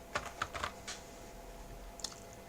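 A few quick keystrokes on a computer keyboard, faint and close, in short bursts followed by a pause and one last tap, in a quiet room.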